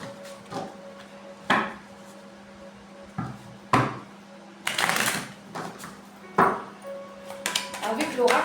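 Oracle cards being shuffled by hand, several brisk riffling bursts with clicks between them, close and fairly loud, while someone speaks intermittently.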